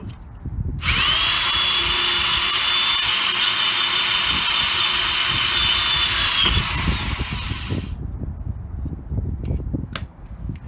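A power drill whines loudly at a steady high pitch for several seconds, with scraping and thumps of drilling through a wooden Arcade1up Pong mini cabinet, then stops, leaving clattering handling noises.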